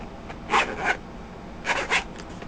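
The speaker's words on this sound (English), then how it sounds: "try to get this keyboard out of here" Prying the keyboard out of a dead three-year-old HP Pavilion G7 laptop, with two pairs of short scraping, clicking bursts of plastic against a faint hiss, close and quiet.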